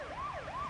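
A wailing police siren in the underwater game Murky Divers rises and falls in smooth sweeps, loud and steady, with no talk over it.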